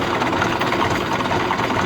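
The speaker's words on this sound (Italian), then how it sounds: "Io sono qua che guido il trattore" A tractor engine running while planting a vineyard, a steady close idling drone with a low throbbing rumble that holds constant throughout, no voices.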